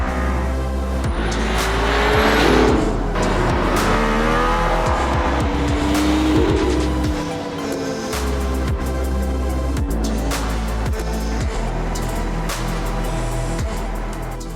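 A Mercedes-AMG ONE hypercar accelerates hard on the Barcelona race track, its engine note rising through several gear changes with brief tyre squeal, loud and close throughout.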